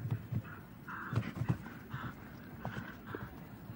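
Show-jumping mare's hooves thudding on the arena ground at a Nations Cup competition in Falsterbo, a handful of soft, uneven clip-clops at a distance beneath crowd murmur and a faint commentator's voice.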